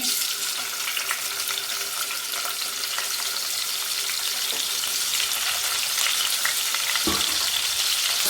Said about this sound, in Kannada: ಎಣ್ಣೆ ಕಾಸೋಕೆ ಇಟ್ಟಿದ್ದೀನಿ. ಇದೆ ಟೊಮೊಟೊ ಹಾಕ್ಕೊತೀನಿ.